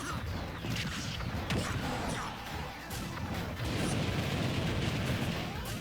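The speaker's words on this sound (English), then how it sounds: "that fire breath does quite a bit of damage too" Bowser's fire breath attack in a Super Smash Bros match, heard as a dense, sustained roaring blast layered with busy game impacts, steady and loud for several seconds.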